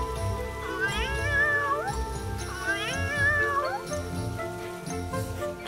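A small, soaked kitten gives two long, wavering meows a couple of seconds apart, close and clear over a low background rumble.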